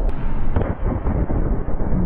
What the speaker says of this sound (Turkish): büyük patlamalar yaşandı